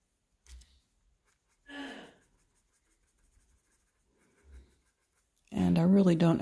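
Paper stump rubbing and blending graphite pencil on a drawing: three short, soft scratchy bursts of strokes with quiet gaps between them, then a voice starts talking near the end.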